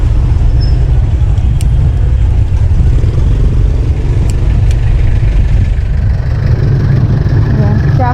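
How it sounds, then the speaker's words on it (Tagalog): Road traffic passes during a bike ride in Cavite, a loud steady engine rumble and idling drone close by, with wind noise throughout. "Traffic."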